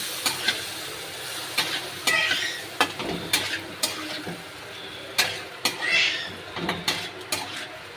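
Spoon stirring and sautéing a yogurt-based mixture in a pan, repeated scraping clinks over a steady background sizzle, close and moderately loud.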